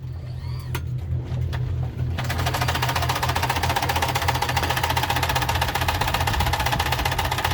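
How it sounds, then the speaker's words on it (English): A sewing machine stitching straps starts up after a couple of seconds and runs in a fast, continuous mechanical chatter, close and loud over a low steady engine drone aboard a boat under sail repair. "My dad's sewing up some straps"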